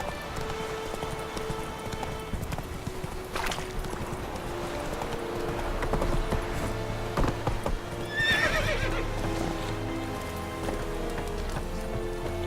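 In the video game The Witcher 3, the horse Roach whinnies loudly and its hooves clip-clop at a galloping pace, with a faint voice under it.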